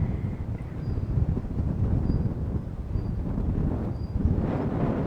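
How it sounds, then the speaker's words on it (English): Strong wind buffets the microphone at the Shuri Castle viewpoint overlooking Naha on a blustery spring day, a steady loud low roar with gusty rumbling throughout and no voices. "It won't stay this windy for long."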